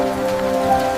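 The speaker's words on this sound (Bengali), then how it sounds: "ইয়াহু, বৃষ্টি।" Steady cartoon rain patters across the whole second, with sustained musical tones ringing over it and no talking.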